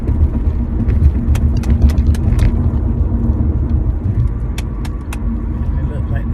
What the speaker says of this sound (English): Traffic is going up, going towards downtown Portsmouth